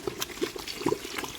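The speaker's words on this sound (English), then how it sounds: "Then add water and then you add your rice." Water is added to a cooking pot while making Nigerian jollof rice with vegetables, a brief, quiet splashing trickle with soft liquid bubbling.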